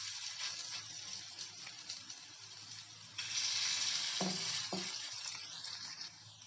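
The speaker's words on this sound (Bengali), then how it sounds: "আমি বেশ কয়েকটা বড়া শেপে ভাজার জন্য দিয়ে দিয়েছি।" Fritters of raw pointed gourd and potato fry in hot oil over a low flame, a quiet, continuous sizzle with a few soft clinks partway through and a louder bubbling surge as more batter goes in. No speech.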